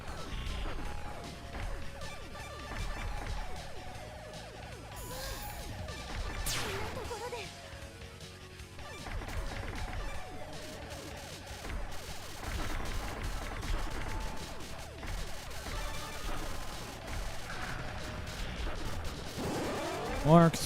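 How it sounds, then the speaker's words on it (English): Explosions from a Sega Saturn video game burst repeatedly amid dense game sound effects and music, with a sharp blast near the end; a voice talks over parts of it. "More explosions"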